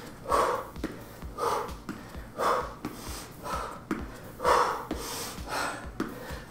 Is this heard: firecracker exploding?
no